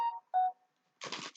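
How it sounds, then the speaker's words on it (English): A mobile phone chimes with a short two-tone notification alert, clear and close, followed by a brief burst of a brighter buzzing tone, with no talking. "Excuse my phone."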